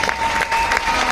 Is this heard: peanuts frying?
no